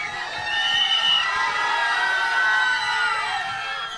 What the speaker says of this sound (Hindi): इंडियन सिनेमा का एक बहुत ही कमाल का नाम, धनुष सर के लिए एक बार जोरदार तालियां।